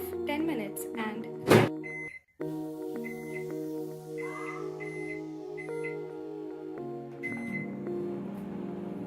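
An oven being set for a ten-minute cake bake gives off a series of short electronic beeps and a loud button thunk, with a steady low hum running beneath the beeps.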